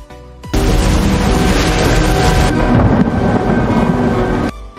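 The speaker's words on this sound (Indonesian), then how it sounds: "Namun di tengah perjalanan tiba-tiba mereka pun dihadang badai besar." A heavy storm with thunder and wind in the horror film Until Dawn (2025): a loud, sustained roaring rumble starts abruptly and fills about four seconds before cutting off.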